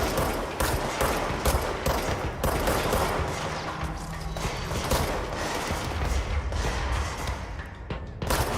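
Rapid video game gunfire aimed at enemies, a dense, continuous volley of loud shots and thuds firing steadily without pause.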